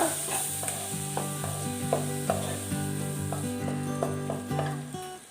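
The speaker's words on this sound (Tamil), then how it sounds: "சேர்த்ததுக்கப்புறம் இதை நல்லா கலந்து விட்டுக்கோங்க" Cauliflower with spices being stirred in a pan for a Tamil-style pepper dry roast: repeated scraping, ratchet-like clicks over a soft sizzle, with a steady tonal background underneath.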